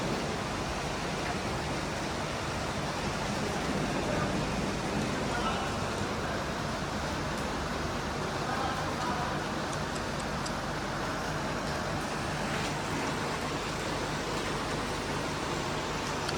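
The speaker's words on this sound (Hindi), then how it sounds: "बहुत तेज़ बारिश की आवाज़ आई जा रही है" Dense, steady roar of heavy rain, a constant broadband hiss with no breaks, loud and close throughout.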